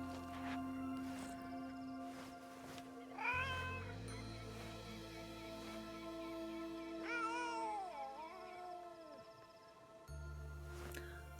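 A cat meowing in a video game, two drawn-out, wavering meows separated by a few seconds, heard over a steady, faint musical background.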